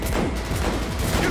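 Dense, loud gunfire in Cyberpunk 2077 makes a brief wall of overlapping shots and cracks, heard alone with no talking.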